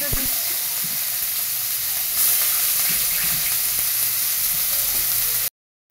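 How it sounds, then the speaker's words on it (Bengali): Cumin seeds, whole garam masala, dried red chillies and a ground paste dropped into hot oil set off a loud, steady sizzle and hiss that jumps briefly louder partway through, then cuts off abruptly. "আমি একটু তেল অ্যাড করলাম, ওর মধ্যে আমি সাদা জিরে দিয়ে দিচ্ছি, গোটা গরম মশলা দিচ্ছি, শুকনো লঙ্কা দিচ্ছি, বাটাটা দিচ্ছি"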